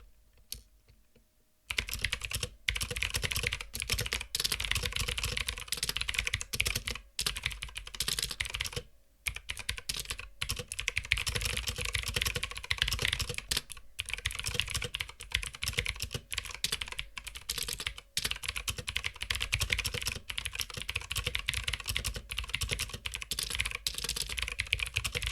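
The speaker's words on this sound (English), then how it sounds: "So here's a typing demonstration." Steady, fast typing on a mechanical keyboard fitted with clicky blue switches: a dense, crisp clatter of sharp key clicks close to the mic, running continuously with one brief pause partway through.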